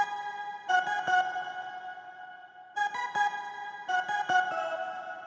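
A synth keyboard pad plays repeated chord hits, each followed by a long washy reverb tail that keeps ringing between the strikes.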